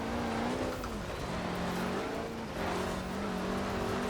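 A Hummer H1 Open Top plows off-road in Forza Horizon 4, its engine droning loud and steady with wavering pitch as it accelerates and eases, a continuous close rumble without voices.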